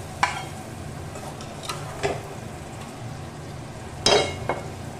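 Sautéed capsicum and bell peppers tipped into a pan for a paneer dish, soft continuous sizzle with a few sharp utensil knocks and scrapes as they are added and stirred.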